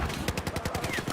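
Hipfire from the ACE 21 CQB carbine in Battlefield 4: a fast, evenly spaced burst of about ten sharp gunshots, loud and close, filling just over a second.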